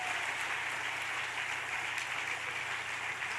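Church congregation clapping hands together in a steady, dense wash of applause that fills the room for the full stretch without pause, no voices standing out above it.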